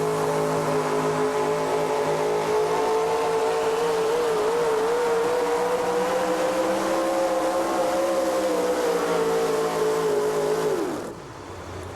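A Ford Hemi four-wheel-drive truck pulls at a 2007 tractor and truck pulling event in Hillsboro, Wisconsin. Its engine roars loud and steady for about eleven seconds, the pitch wavering slightly, then drops off sharply near the end.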